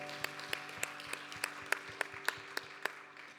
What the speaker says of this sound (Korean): 박수로 서로를 격려하겠습니다.